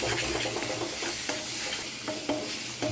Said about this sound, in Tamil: சேர்த்து ஒரு ரெண்டு நிமிஷம் தான் அந்த பச்சை வாசனை போகிற அளவுக்கு வதக்கி விட்டுக்கலாம்